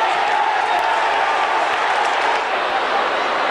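Roar of a football stadium crowd of almost 70,000 at an Australian rules match between St Kilda and Collingwood, a steady loud wash of cheering and noise filling the whole stretch without a break.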